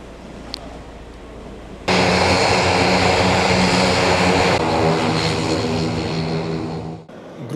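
A Dutch Air Force F-16 military jet roars in abruptly and holds a loud, steady, broadband engine rush for several seconds before cutting off sharply.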